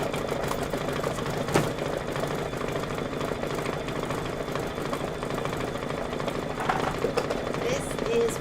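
A sewing machine runs steadily, stitching a satin outline on a butterfly forewing in red thread, a continuous whirring motor with rapid needle rhythm that holds throughout, close and moderately loud.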